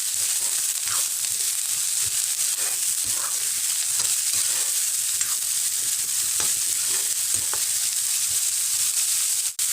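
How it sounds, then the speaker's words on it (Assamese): Onions and chopped dangbodi fry in a hot pan for an Assamese dish, with a steady loud sizzle and intermittent scraping, stirring knocks close by and no talking. "এতিয়া পিয়াজখিনি ভাজি হৈ গ'ল আৰু মই এতিয়া কুটি থোৱা ডাংবডিখিনি দি দিম"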